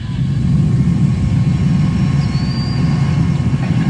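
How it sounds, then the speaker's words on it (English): Space Shuttle Discovery's three main engines roar at launch for mission STS-133, a dense, continuous low rumble that holds steady and loud throughout. "Discovery's three main engines."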